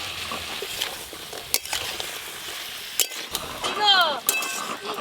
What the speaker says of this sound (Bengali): এবার ভেজে রাখা কাঁকড়াগুলো দিয়ে দেবো।